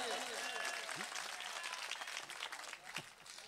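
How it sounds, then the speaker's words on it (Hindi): An audience at an All India Mushaira poetry recital at the Fatehpur Mela in Barabanki claps loudly and continuously, then the applause thins and fades, with voices heard through it. "अच्छा लगा, जोरदार तालियां बजाकर मुझे बताइए।"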